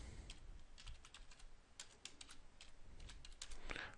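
Rapid typing on a computer keyboard while entering a text label in Autodesk Inventor 2014, with irregular clusters of close, crisp key clicks throughout and no talking.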